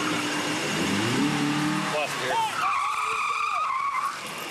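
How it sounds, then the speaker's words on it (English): Tires skid and squeal loudly on a road near a police crash scene as another driver nearly plows into it, a rising screech over road noise with voices talking in the background. "another driver nearly plows into the scene"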